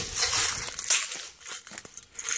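Rummaging for a tin of Crosman Premier Hollow Point airgun pellets, heard as close, irregular crinkling and rustling with short bursts of handling noise.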